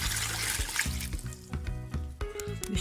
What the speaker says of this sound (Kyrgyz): Мен суум 2 литр куюп алабыз